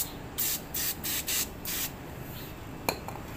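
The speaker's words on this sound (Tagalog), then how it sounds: "Itong brake cleaner na to." Brake cleaner is sprayed onto a Honda or Yamaha scooter brake in several short, loud aerosol hisses, close by, followed by a faint clink and no talking.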